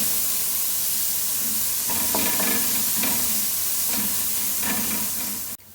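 Chopped onion sautés in a pan for broccoli soup, a steady sizzle with repeated stirring scrapes at a fairly even rhythm, close and clear with no talk.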